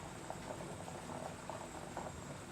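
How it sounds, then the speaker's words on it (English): A running stove during cooking gives a quiet, steady bubbling hum with faint rattling, close and continuous for a couple of seconds with no talk. "you might be hearing the stove"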